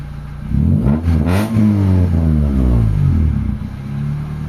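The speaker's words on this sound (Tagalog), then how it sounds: "Tapos pagka ni-rev natin, tingnan natin kung hindi na siya didiretso ng bagsak" Honda Civic engine with a reworked distributor and a dropping, delayed idle, blipped from about 800 RPM: a rising rev that swoops up and then falls back, loud and close, settling into a rough, bouncing idle.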